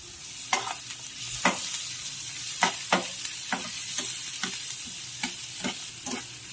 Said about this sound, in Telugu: ఉల్లిపాయలను, కరివేపాకు, పచ్చిమిరపకాయలు కొంచెం ఫ్రై చేసుకుందాం.